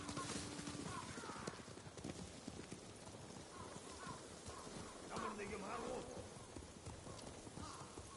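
Hooves of enemy riders' horses gallop in the Ghost of Tsushima video game, a steady clip-clop drumming under game voices and busy battle ambience.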